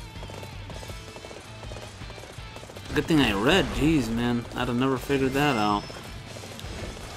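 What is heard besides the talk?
horse galloping in Dynasty Warriors 8 video game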